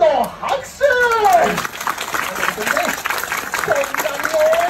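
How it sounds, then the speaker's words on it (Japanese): An audience cheers on a performing monkey with scattered applause, while a voice talks over it and bright whistle-like tones sweep up and down throughout. "よく聞いて、このたくさんの応援の拍手"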